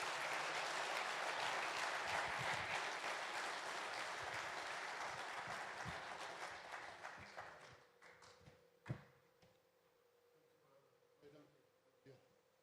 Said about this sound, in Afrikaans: Kom ons gee vir Wynand die hardste, hartlikste eyster hande klap.